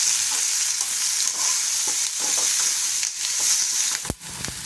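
Bitter gourd fries with onions in a pan for chutney powder, a loud continuous sizzle under repeated scraping strokes of a spatula and one sharp knock near the end, no talking.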